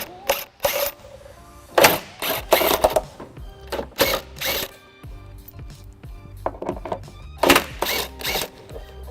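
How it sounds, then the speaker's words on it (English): An electric impact wrench with a 15mm socket removes bolts on a 2003 Pontiac Aztek during a trailer hitch installation, giving repeated short hammering bursts with pauses between them, close and fairly loud. "I'll be using electric impact with a 15mm socket."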